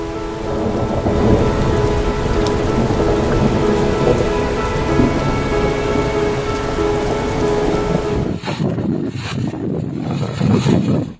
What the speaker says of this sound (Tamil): ஏற்காடு மற்றும் அதன் சுற்றுவட்டார மலை கிராமங்களில் சுமார் 1 மணி நேரத்துக்கு மேலாக கனமழை பெய்தது.